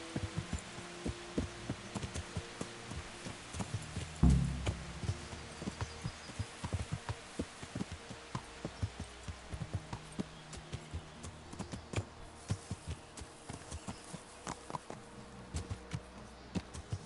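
Horse hooves clip-clop in a steady rhythmic gait during a ride in Kingdom Come: Deliverance, set over a low ambient hum with one heavier thud early on, moderately close and without speech.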